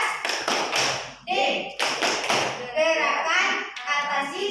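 Hands clap in sharp bursts during a group chant at a community health post (posyandu) session in Serang, the claps mixed with lively voices.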